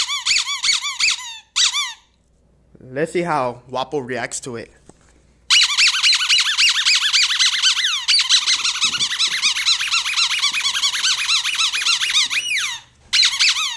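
A squeaky pet toy is squeezed in a quick burst, then after some speech it squeaks rapidly and continuously for several seconds, loud and close, before a short pause and a final squeak.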